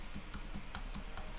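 Rapid, evenly spaced keystrokes on a computer keyboard enter a test card number, about seven crisp clicks in quick succession, close and quiet.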